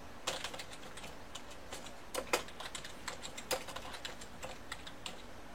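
Typing on a computer keyboard: quick, irregular bursts of close, crisp key clicks and taps, some louder strikes standing out, heard alone over faint background hum.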